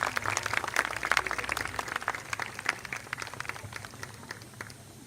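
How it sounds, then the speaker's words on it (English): Audience applause at a commencement ceremony for the class of 2023, a steady wash of many hands clapping from a distance that gradually thins and fades over several seconds. "Please welcome her with a loud applause."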